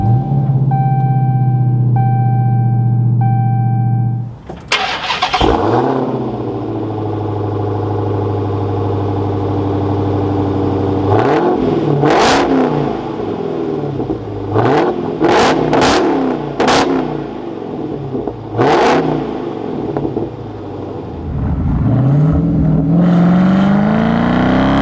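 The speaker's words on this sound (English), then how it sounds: "keeping my foot on the brake, we can go ahead and fire it up." After a few chimes, a Dodge Charger SRT Hellcat Redeye fires up with a loud burst and settles into a deep, rumbling idle, then gives several sharp, roaring revs.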